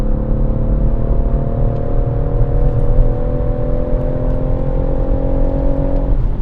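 BMW M140i engine on the Goodwood circuit, a steady, loud drone with a sustained tone that holds through the run, then dips sharply near the end as if changing gear, with constant road and wind rumble underneath.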